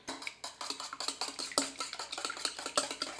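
A spoon or whisk clinks quickly and rhythmically against a bowl while eggs and coconut milk are mixed for keto pumpkin muffins. The soft scraping taps repeat steadily at close range with no talk.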